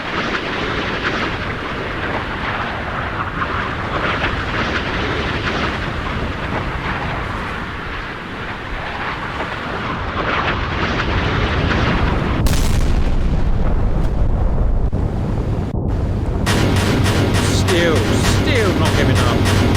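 Missiles launched during a naval battle in the game Sea Power, O.H. Perry frigate against a Nanuchka missile corvette: a loud, continuous rushing roar that surges louder late on, with a voice speaking over it throughout.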